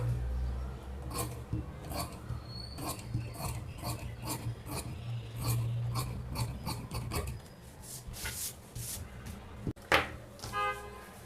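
Scissors cut through blouse fabric in a quick run of crisp, repeated snips over a low steady hum, close and fairly quiet, with no talking.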